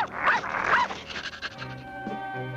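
A cartoon puppy in a Smurfs scene, heard as quick breathy panting and small vocal yelps up close, followed by a faint sustained tone underneath.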